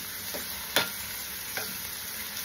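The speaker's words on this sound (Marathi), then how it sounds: "आपण आता थोडंसं परतून घेऊया" Ground onion paste and chopped green chili sautéing in a pan for Goan prawn curry, with a steady soft sizzle and a few sharp spoon scrapes against the pan, one louder stroke standing out.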